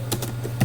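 Quick keystrokes tap on a computer keyboard while text is typed into a course upload form, a few close clicks over a low steady hum.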